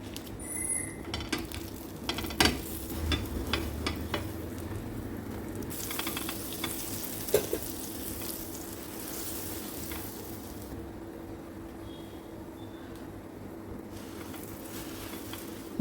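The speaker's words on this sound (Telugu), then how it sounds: "బ్రెడ్ రెండు వైపులా ఎర్రగా కాల్చుకోవాలి" Bread halves toasting in butter on a hot pan for pav bhaji, giving a steady, soft sizzle throughout with occasional clinks and scrapes of a utensil against the pan, close and moderately loud.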